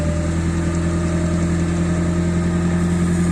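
A 1.5-ton forklift engine idling, a loud, steady, close rumble with a constant low hum and no change in speed throughout.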